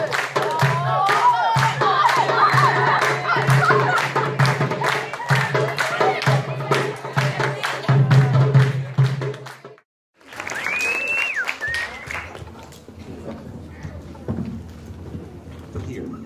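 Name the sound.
audience applause and cheering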